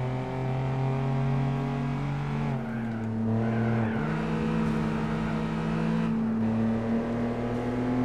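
Steady engine drone of a car racing in Gran Turismo 4, with clear gear-shift steps in pitch, loud and continuous with no talking.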